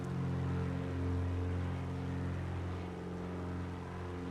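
Single propeller engine of a GA8 Airvan in MSFS 2024, droning steadily and loud with a strong low harmonic hum throughout, no voices.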